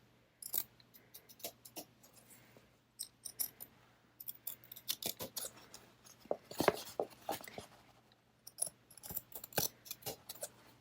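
Craft paper is trimmed for a holiday card keeper: a quiet indoor run of crisp, irregular snips and small clicks in short bursts, with brief pauses between cuts.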